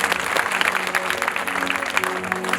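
An audience at a village religious discourse claps loudly, a brisk, dense burst of many hands with a steady drone of background sound beneath.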